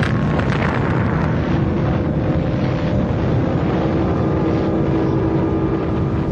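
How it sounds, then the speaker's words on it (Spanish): An atomic bomb explosion sound effect roars as a loud, continuous broadband blast and rumble that stays heavy and unbroken, like rolling wind-driven thunder, with no voices. "Con aquella gigantesca explosión, los científicos liberaron la fuerza nuclear fuerte"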